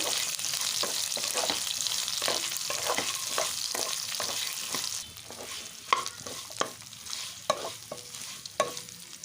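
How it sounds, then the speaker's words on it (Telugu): Nalleru (veld grape) pieces frying in leftover oil: a steady close sizzle for several seconds, then quieter frying broken by sharp scraping and stirring knocks from a spatula against the pan. "ఈ మిగిలిన ఆయిల్లో మనం ఈ నల్లేరు ముక్కల్ని అయితే ఇందులో ఉడికించుకోవాలి"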